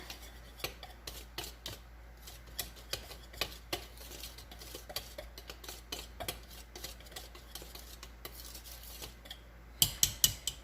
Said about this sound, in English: Whisk all that in there.